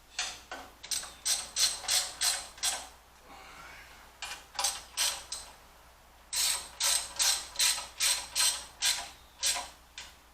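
A hand ratchet snugs the oil pan bolts on a Ford 5.0 Windsor small-block V8, heard close up in rapid bursts of crisp clicking strokes with a short pause between runs and no talk.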